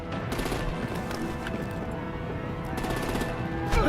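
Rapid gunfire and explosive artillery bursts in a Batman: The Enemy Within video game scene, a dense, continuous barrage under a busy mix, with a heavier blast near the end.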